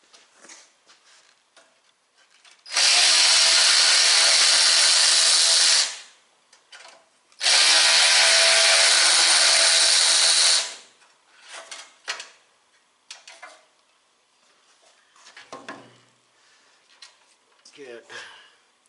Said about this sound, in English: There again, the screwdriver.